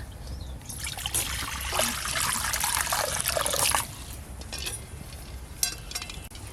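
Water poured into a pot for boiling eggs in a home kitchen, a steady splashing trickle for a few seconds, then fading to lighter drips and clinks, close by.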